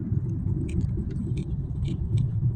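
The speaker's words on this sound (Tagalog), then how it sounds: "yung truck na yun doon, lumiko pa kanan" A truck drives and turns right along a city road in Quezon City at dawn, heard as a steady low engine rumble with faint clinks and rattles over it, close and continuous.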